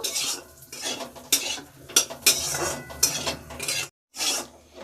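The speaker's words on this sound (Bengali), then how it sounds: "কাজুটা একটু ভেজে নেব" Cashews for vermicelli payesh are fried and stirred in a pan, a metal spoon scraping and rasping in repeated strokes over a faint sizzle, close and fairly loud, with one brief silent gap.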